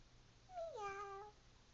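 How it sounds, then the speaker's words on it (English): A cat gives a single clear meow lasting under a second, rising then falling in pitch, close and distinct over a quiet background. "Oh, there's a cat."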